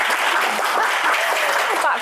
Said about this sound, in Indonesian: Oke, tepuk tangan dulu buat pemanasan dulu.